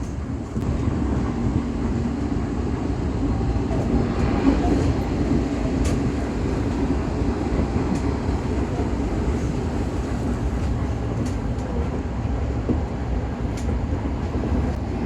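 A train running in Japan, a steady rumbling rail roar with low-frequency rattle and faint high squeals, continuous and fairly loud throughout with no talk.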